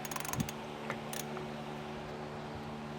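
A 1.5 inch socket tightens the nut on a replacement trailer hub: a few faint ratcheting clicks at the start, then a low steady mechanical hum.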